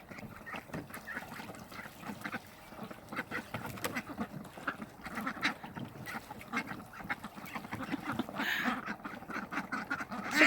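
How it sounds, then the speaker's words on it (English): Six ducks quack repeatedly in a pool, calls overlapping in a steady chatter at moderate distance with splashing and background activity. "Six ducks in a pool."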